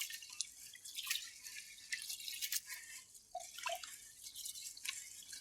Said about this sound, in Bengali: তাই চালটাকে ধুয়ে নেব